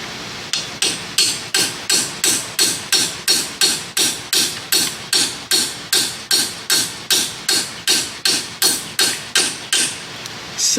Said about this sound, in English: Now I'm gonna punch that thing out with something.